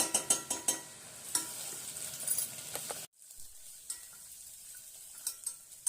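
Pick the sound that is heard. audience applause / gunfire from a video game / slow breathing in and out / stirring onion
stirring onion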